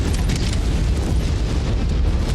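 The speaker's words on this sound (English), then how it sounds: "ammo explosion" An ammunition explosion in MechWarrior 5: Mercenaries, a loud sustained rumbling blast filling the whole clip with heavy low-end roar and no talk over it.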